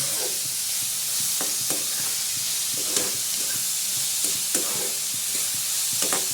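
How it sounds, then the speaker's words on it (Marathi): Chopped onion sizzles steadily in hot oil over a high gas flame while a spoon stirs it, adding periodic scraping clicks against the pan; close and continuous, with no voices. "तर ढवळतो. कांदा चांगला तेलात भाजून घ्यायचा."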